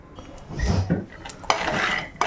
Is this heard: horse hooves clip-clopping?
no